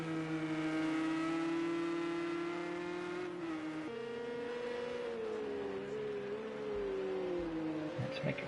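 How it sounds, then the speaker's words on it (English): Porsche race cars scream around Silverstone in a PS4 racing game, a steady high engine drone shifting pitch as the cars accelerate and change gear, loud and continuous with no talking. "They're both driving the Porsches."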